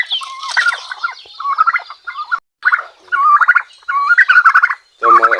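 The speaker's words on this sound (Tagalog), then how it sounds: "So mga galit na galit sa akin tong pabo na to eh." An agitated turkey gobbles repeatedly at close range, with loud rattling bursts coming in quick succession and only brief pauses between them.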